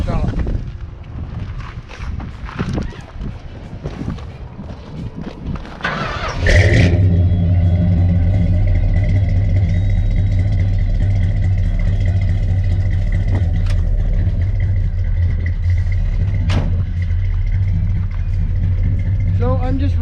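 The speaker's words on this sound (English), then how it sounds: "I'll give her a quick fire up here and we'll let you guys listen to the shop" A Dodge D200 Camper Special truck with a 2.5-inch exhaust and welded turbo mufflers cranks and fires up, then settles into a loud, steady rumbling idle heard up close after some talk.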